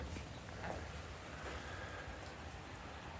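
Steady rain falling, a soft continuous hiss of drops with no voices.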